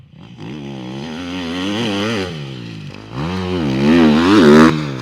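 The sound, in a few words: motocross motorcycle riding on the Ernée track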